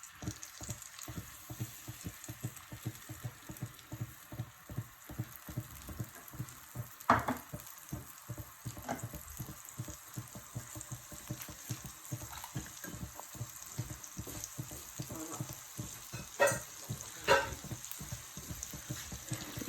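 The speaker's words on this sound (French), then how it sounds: "Je mélange, il ne faut pas que l'ail se brûle." Garlic and sauce sizzling and frying in a pan for a chicken meatball tajine, with steady crackling and occasional scraping clinks of stirring, close and alone with no voices.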